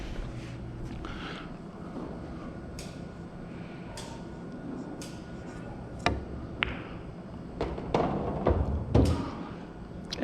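An 8-ball pool shot, with the cue striking the ball and then a scattered run of sharp clicks and thuds as the balls collide and hit the cushions, close and moderately loud with no talking.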